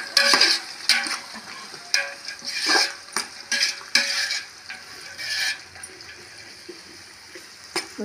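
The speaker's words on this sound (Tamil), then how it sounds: "வெங்காயம் நல்லா வதங்கட்டும் பொன்னிறம் வரைக்கும்." About ten chopped large onions fry in oil over an outdoor stove for country chicken biryani, with a continuous sizzle broken by repeated scraping strokes of a ladle against the pot, loud and close.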